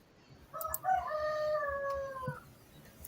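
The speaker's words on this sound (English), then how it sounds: "I know your rooster is just wanting to be on the show" Rooster crowing once in the background, a drawn-out, fairly faint call lasting about two seconds, with nothing else prominent around it.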